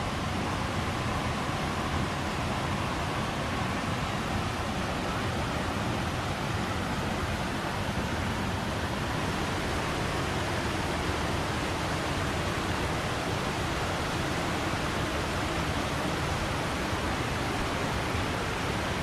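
Jet Sao Noi waterfall in Saraburi, Thailand, a dense, steady roar of cascading water filling the air without pause, loud and close, with no voices over it.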